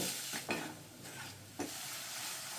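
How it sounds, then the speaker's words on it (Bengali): Jaggery and coconut stirred together in a pan, with a few soft scraping strokes over a faint sizzle, quiet and close with no speech. "আমি এবারে গুড় আর নারকেলটাকে ভালো করে নেড়ে ছেড়ে একটা ফুট তৈরি করে নেব"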